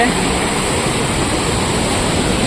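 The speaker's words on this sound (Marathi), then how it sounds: "तो झरा बघा इथे हा पाणी पडतोय ना तिथे तो झरा आहे" Water pours from a spring stream at a small village reservoir in Konkan, a loud, steady, dense rush of falling water filling the whole clip.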